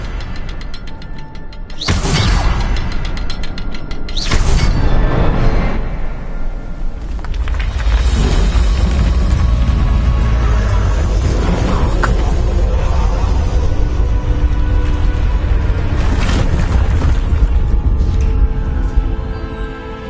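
A fire spell cast in Hogwarts Legacy flares with a whooshing burst near the start, then rumbles on as a dense crackling roar under layered game effects for the rest of the stretch.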